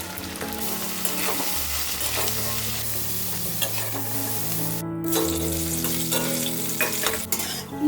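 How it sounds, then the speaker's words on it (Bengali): Small crabs fry in hot oil with salt, turmeric and chili powder, giving a steady close sizzle with stirring scrapes and clatter throughout, no voices. "এই তেলের মধ্যে বাকি কাঁকড়াগুলো হালকা করে ভেজে নেব।"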